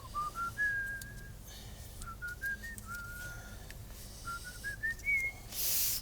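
A person whistles a short tune as part of a guessing game in a taxi, clear rising and sliding notes in several phrases over a low engine hum, ending in a burst of noise.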